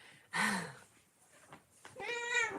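A pet cat meows twice indoors at home, a drawn-out close cry followed after a pause by a second, longer rising meow, with faint room noise between.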